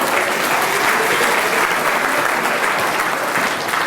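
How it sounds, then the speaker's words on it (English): A crowd at the SA Professional Services Awards ceremony applauds the spotlight operator, producing loud, steady, evenly sustained clapping that fills the room without pause. "Give the spotlight operator a round of applause"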